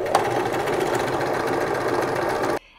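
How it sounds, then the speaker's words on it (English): A sewing machine stitches fabric bow pieces shut in a steady, fast, close rattle that runs continuously and then stops abruptly, with no voices. "what I'm going to do is just sew that gap shut on the outside"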